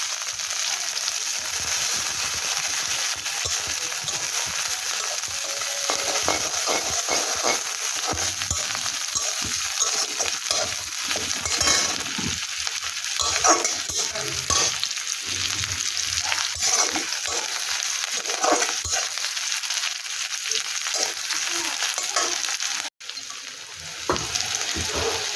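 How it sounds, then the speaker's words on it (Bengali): Nigella seeds, onion and green chilli fry in hot oil in a home kitchen, giving a continuous close sizzle broken by scraping stirs and a few clinks, with no talking. "একটু কালো জিরে আর পেঁয়াজ আর কাঁচা লঙ্কা এইটা আমি ফোড়ন দিয়ে নিলাম।"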